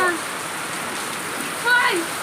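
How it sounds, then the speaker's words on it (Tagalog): Steady heavy rain from a storm hisses in the background while birds chirp briefly now and then. "Malakas po ang ulan."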